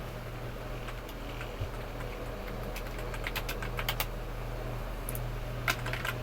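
A computer keyboard is typed on in irregular bursts of quick, light clicks, fairly quiet and close, over a constant low electrical hum.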